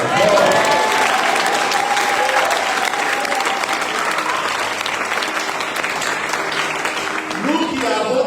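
A church congregation at a Pentecostal service applauding, sustained dense clapping that fills the room from start to finish, with voices calling out beneath it.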